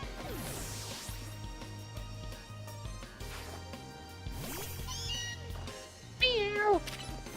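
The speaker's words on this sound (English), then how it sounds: "Meow." Meowth from the Pokémon Legends Z-A video game gives a few short, high cartoonish meows over game music with battle sound effects, the loudest meow near the end.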